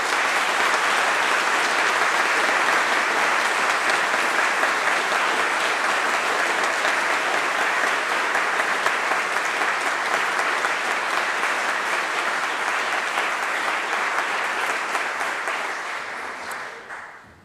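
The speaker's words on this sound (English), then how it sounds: "You all deserve an extra round of applause." A large graduation ceremony crowd at the University of Reading claps in a dense, sustained ovation that holds steady for many seconds before tapering off quickly at the end.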